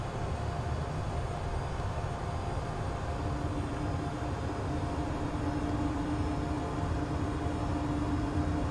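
KLM Embraer ERJ-190 jet engines idling and rolling during taxi at Amsterdam in Microsoft Flight Simulator 2020, a loud, steady broadband roar with a faint rising whine, continuous and unchanging, with no talk.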